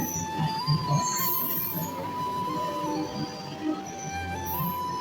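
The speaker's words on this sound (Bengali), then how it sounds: "ট্রেনটা জাস্ট দাঁড়ালো" An Intercity Express slowing and halting at a station: a long, thin metallic brake squeal wavers steadily over a rumbling, clattering bed of wheel and carriage noise, with faint scattered clinks, moderately loud and close.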